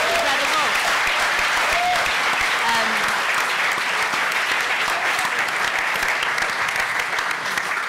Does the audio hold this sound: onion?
no